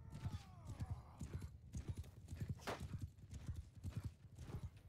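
Rhythmic clip-clop of horse hooves galloping in a medieval battle video game, with cataphract cavalry charging; steady repeated hoofbeats fill the clip alongside a brief whinny-like cry, with no talking.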